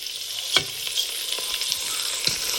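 Raw rice frying in a pot for hilsa pulao gives a soft, steady sizzle. A few sharp stirring clinks and scrapes rise above it, close by, with no speech.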